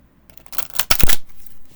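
Flexible, bendy oracle cards riffled side-on in a quick shuffle, a dense papery flutter building over about a second, close and fairly loud, with a softer rustle after.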